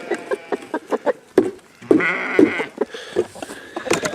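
Sheep bleat repeatedly at close range among a farm family's livestock, a run of short overlapping calls spread across the whole stretch with a longer, louder bleat in the middle.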